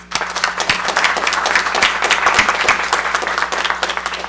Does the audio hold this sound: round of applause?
yes